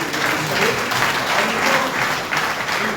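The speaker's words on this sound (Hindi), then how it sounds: "एक बार जोरदार ताली अनुराग जी" Loud, dense applause from a seated audience at a budget seminar in Moradabad, a continuous wash of clapping that holds steady without any talk over it.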